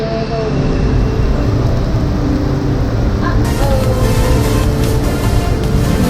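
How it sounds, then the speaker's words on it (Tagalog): Rain falls steadily through a bike ride from Dasmariñas to Kawit, Cavite, a dense continuous broadband wash with wind and traffic rumble mixed in, loud and unbroken throughout. "Kasalukuyan ng umuulan."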